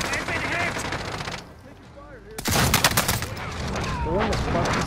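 Video game gunfire crackles in rapid bursts: a busy volley, a short lull with scattered distant pops, then a louder, dense return of automatic fire close by.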